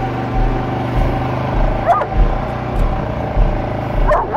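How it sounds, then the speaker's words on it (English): A dog barks a few times at a distance, short sharp yips over a steady low engine hum. "I don't know what he's barking at."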